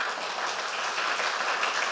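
A church congregation claps together at a Sunday worship service, a steady dense wash of many hands sustained throughout with no gaps and no talking.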